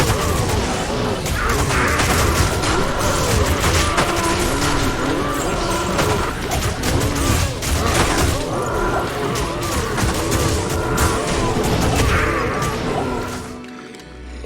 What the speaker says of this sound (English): I would just use Corpse Explosion